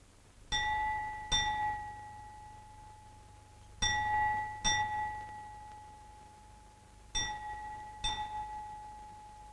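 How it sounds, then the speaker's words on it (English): The bell of Yeravada prison rings at noon, six clear metallic strikes in three evenly spaced pairs, each ring decaying slowly into a quiet background. "The jail bell struck 12"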